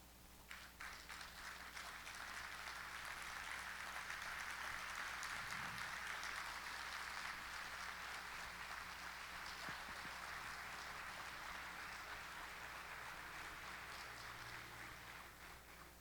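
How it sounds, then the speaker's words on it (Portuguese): A large audience gives a standing ovation to sailor Lars Grael at a ceremony marking ten years of an athlete training program, with dense, sustained clapping that fills the hall and holds steady for about sixteen seconds, heard at a distance. "eu gostaria que vocês aplaudissem de pé, Lars Grael"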